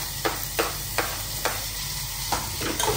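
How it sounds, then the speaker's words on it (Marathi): Tomatoes are stirred into golden fried onions in a pan, with a spoon scraping in regular strokes about every half second over a steady sizzle of frying. "त्यानंतर परत एकदा हलवा"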